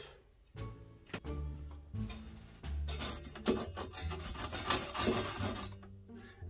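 A hand saw or rasp works through the wood of a dresser being shortened, giving scattered knocks and then a stretch of steady rough back-and-forth rasping strokes, close and fairly quiet with no voices.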